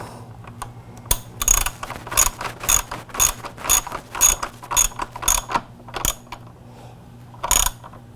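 A ratchet wrench tightens the nut on the rear set of a Yamaha R6 motorcycle, giving a series of about a dozen loud, close, rhythmic clicking pulls with short pauses between strokes and no talking.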